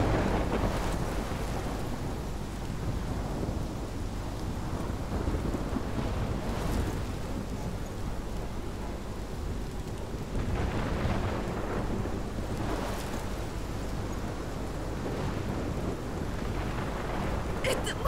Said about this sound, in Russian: Это моя буря.